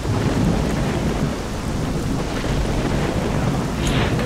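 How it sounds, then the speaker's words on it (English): A thunderstorm in S.T.A.L.K.E.R.: Shadow of Chernobyl, with heavy rain roaring steadily and rumbling thunder filling the whole stretch, loud and constant with no talk. "This storm is hectic."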